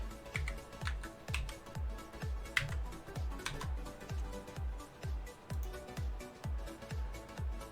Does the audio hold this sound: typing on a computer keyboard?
yes